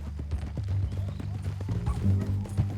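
Horse hooves clip-clop in a steady rhythm in Red Dead Redemption 2, close and moderately loud as a horse carries a tied-up rider toward Saint Denis, with a low musical drone and game voices running underneath.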